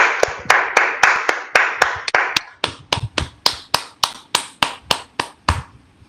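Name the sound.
online audience applauding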